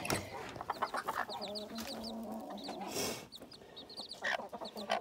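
Domestic hens clucking with their chicks in a backyard coop, soft repeated clucks near and at moderate volume, with high chick peeps and a little talk in the background.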